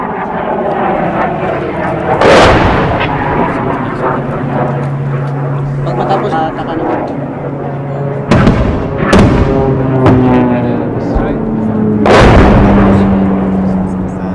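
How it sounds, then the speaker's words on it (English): Airstrikes and mortar fire pound the city of Marawi during the battle against ISIS militants, with several heavy booming blasts over a continuous drone of aircraft engine overhead and steady background rumble. "These guys are pounding the city with airstrikes"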